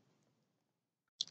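A single sharp mouse click sounds once near the end, close and brief, after near silence.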